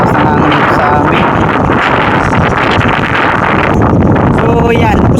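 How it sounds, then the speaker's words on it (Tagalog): Strong coastal wind blusters hard against the microphone, a loud, constant rushing roar that never lets up across the whole stretch, with no clear talk over it. "Sobrang lakas ng hangin dito sa amin."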